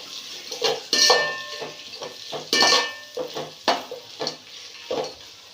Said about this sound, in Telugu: దీన్ని ఒకసారి కలుపుకుందాం.